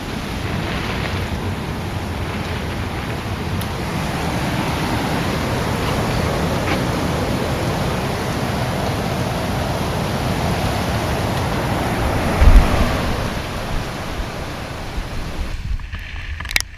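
Storm waves and heavy surf crash continuously along a coastline, with a broad, loud, steady roar of churning water and wind and no voices.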